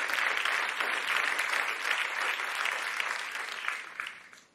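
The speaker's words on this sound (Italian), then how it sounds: "L'applauso va a tutti gli holdeniani" Studio audience applause on an Italian TV talk show, a dense steady wash of clapping that holds strong before fading out toward the end, with no voices over it.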